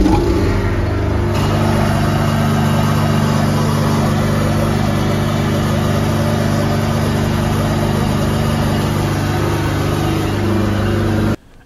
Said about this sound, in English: So I've got the generator going because I want to be able to run the system as it should be running with the generator